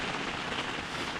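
Steady rain falling outdoors at a rock campsite during a night of solo camping, a continuous dense hiss of drops on surfaces, close and even throughout with no voices.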